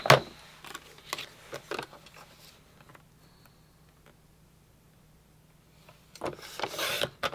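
Paper for a scrapbook page is trimmed with a paper trimmer: a few short scraping slides and clicks near, separated by a long quiet stretch, then a busier rustling burst at the end.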